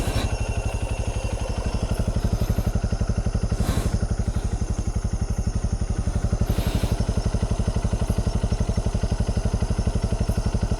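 A motorcycle engine runs at a steady, throbbing idle close by, an even rapid chugging pulse throughout with a faint clatter and brief crackling bursts on top.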